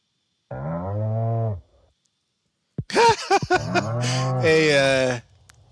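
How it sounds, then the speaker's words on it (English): Cows moo in a farming video game, one long low moo followed after a pause by a second, longer call, close and loud. "Cows are milked and petted"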